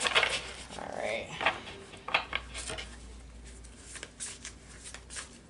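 Tarot cards shuffled by hand in a series of quick, crisp riffling bursts with soft pauses between, close and moderately loud, with a voice speaking faintly in places.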